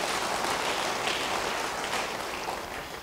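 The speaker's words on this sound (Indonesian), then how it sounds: "Yang mau beri tepuk tangan yang baik bagi dia." Worshippers in a church break into applause during a sermon, a dense, steady crowd clapping that holds strong and then gradually tapers toward the end.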